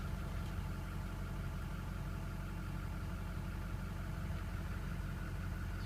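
A 2005 Ford F250 diesel 4x4 idles after warming up, a steady, even rumble with a low rhythmic knock, loud and unbroken throughout without any talking.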